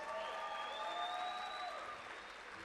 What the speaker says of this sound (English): Steve and Shannon, give them a round of applause